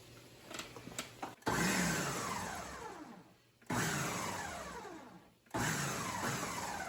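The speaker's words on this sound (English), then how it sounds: "we're going to blend up these tomatoes, but not for a very long time" A blender makes three short bursts as it purees tomatoes for a spicy arrabbiata sauce. Each burst starts with a loud whir that winds down, and the bursts are separated by brief pauses, after a few light clicks at the start.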